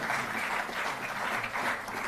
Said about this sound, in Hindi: जोरदार तालियों से आप सहभागी हों।